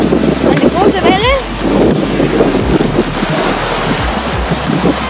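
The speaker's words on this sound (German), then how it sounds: "Eine große Welle." Sea surf rolls onto a Croatian shoreline in a broad, steady wash with wind rushing across the microphone, while someone speaks briefly nearby.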